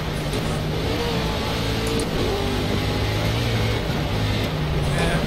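A GT3/GTE race car drifting in a racing video game, its engine holding a loud, continuous drone with shifting pitch, close and steady, while a voice talks faintly at times.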